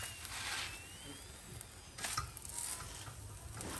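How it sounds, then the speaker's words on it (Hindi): An aloo paratha fries in a pan with a soft, steady sizzle and faint scraping, quiet and close, with no talking. "पराठा दोनों साइड से नाइसली फ्राई हो गया।"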